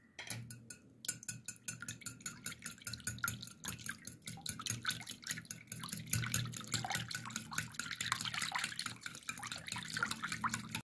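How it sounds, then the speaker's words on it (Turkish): A whisk beats yogurt and egg together in a bowl, giving quiet, rapid, continuous wet clicking and sloshing with no pauses. "1 çay bardağı yoğurdumu da dahil ettim ve bir tane yumurtamı dahil ederek çırpıyorum."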